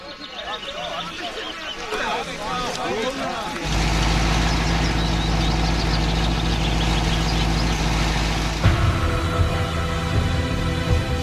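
German tanks and military vehicles idle in a traffic jam, a heavy continuous engine rumble that swells in midway and holds steady, with a speaking voice over the first seconds.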